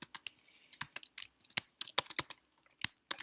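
Quick, uneven keystrokes on a computer keyboard as Python code is typed, close and clear with short pauses between bursts of clicks and no talking.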